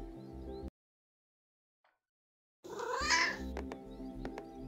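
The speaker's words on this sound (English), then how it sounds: "That's actually her meow that I recorded to put on stream" A recorded meow from the streamer's pet cat plays back over stream audio, a drawn-out wavering cry rising out of a brief silence, with background game sound underneath and short clicks following.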